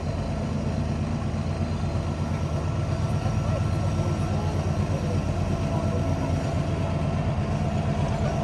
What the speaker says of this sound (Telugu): అండ్ అలా ఇక్కడ మంచి ట్రైన్ వచ్చినప్పుడు అయితే చాలా బాగుంటుంది.